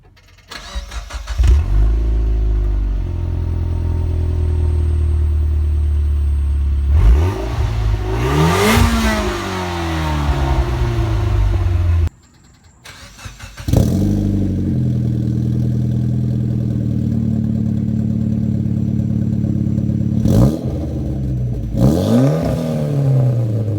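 A Mitsubishi Evo X with a Borla exhaust starting up and idling, then revving in loud rising and falling bursts. It cuts off briefly and then restarts for more revs, heard up close.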